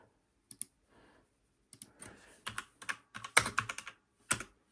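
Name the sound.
typing keys on a mechanical keyboard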